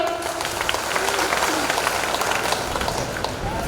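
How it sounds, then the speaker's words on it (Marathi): Audience applause at a Vidarbha shahir artists' gathering in Kanhan, a dense patter of clapping from a crowd with voices and talk mixed in throughout. "सर्वांनी टाळ्या होऊ द्या"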